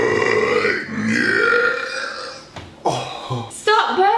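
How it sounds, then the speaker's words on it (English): Loud, close, drawn-out burp followed by a couple of shorter gulping belches, with voices talking over the later part. "Stop burping."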